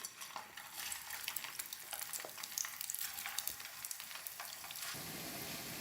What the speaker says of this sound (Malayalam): ഇനി പാൻ ചൂടാക്കി അതിലേക്ക് ഓയിൽ ഒഴിച്ചിട്ടുണ്ട്. ഇനി നമുക്കിത് ഓരോന്നായിട്ട് പാനിലേക്ക് വെച്ച് കൊടുക്കാം.